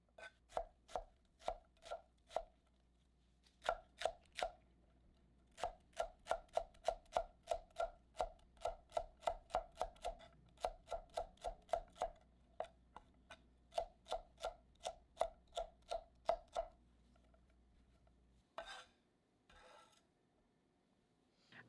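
A knife chops onion and three slightly beat-up celery stalks on a cutting board in rapid, close, crisp rhythmic bursts, pausing between runs before ending with a few scraping sounds.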